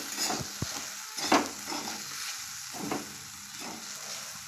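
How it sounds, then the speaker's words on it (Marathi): Besan bhindi, okra coated in gram flour, frying in a pan while being stirred, a soft steady sizzle broken by scraping strokes and a couple of utensil knocks, fairly quiet and without talk. "एक 10 ते 15 मिनिटं आपल्याला हे असं हलवत राहायचं आहे"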